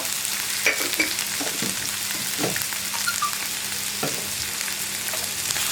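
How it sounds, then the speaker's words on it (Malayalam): Onions and tomatoes with salt sautéing in a pan, a continuous even sizzle with occasional spatula scrapes and light taps, close and steady throughout without voices. "ഉപ്പ് ചേർത്ത് ഒന്ന് വഴറ്റിയെടുക്കുക കേട്ടോ"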